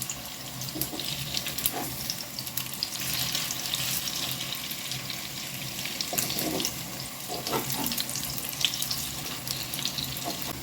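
Chicken fillet meatballs fry in a pan with a soft, continuous sizzle, punctuated by occasional clinks and scraping sounds as they are handled, all fairly quiet and close with no speech.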